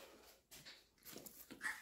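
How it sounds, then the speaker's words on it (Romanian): A dog whimpers softly in a yard at nightfall, with a few faint, brief whines coming and going close by against a quiet background. "Câinele abia se mai vede."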